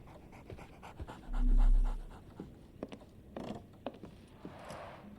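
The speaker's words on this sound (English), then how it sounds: "So, Barnes has a dog now." Dog panting in the Sherlock Holmes The Awakened video game, a steady run of quick breathy huffs close by, with a brief low thump partway through and faint soft scratching underneath.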